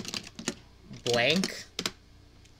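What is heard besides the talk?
typing on a computer keyboard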